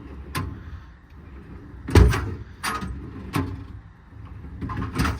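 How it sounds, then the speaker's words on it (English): American Eagle center twist drawers in the body of a 2021 Ford F600 service truck sliding and shutting, a few sharp knocks and clunks spaced a second or so apart over quiet background. "Really nice set of drawers. They all slide nicely."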